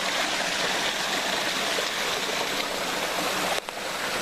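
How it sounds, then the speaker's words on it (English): A stream tumbles over rocks through a chain of small waterfalls, a loud, steady, close-up rushing wash that barely changes throughout, with no voices. "As you can see, there's just little waterfalls. It's just dropping."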